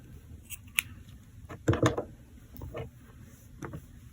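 Scissors cut crochet yarn close to the microphone with a few quiet snips and a brief, louder crunch of the blades closing, over faint room hiss and no talking.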